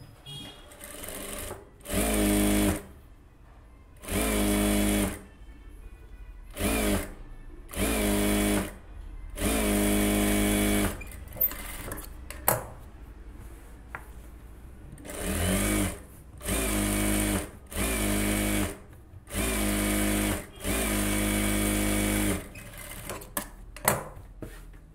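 A sewing machine stitches a silk cotton blouse in repeated loud, steady bursts of running motor and needle, each lasting a second or two, separated by short pauses with quieter handling noise.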